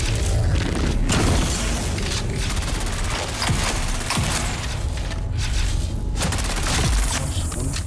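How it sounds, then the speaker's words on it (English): Gunfire and explosions in a Dune Awakening PvP firefight, loud continuous bursts of shots and booming impacts filling the whole stretch, no talking. "Shoot the guy, Kevin, shoot him."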